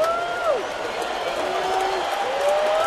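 A baseball crowd at a Seattle Mariners home game against Minnesota rumbles and cheers steadily in the stands, a sustained broad roar with scattered whoops that holds at an even level throughout.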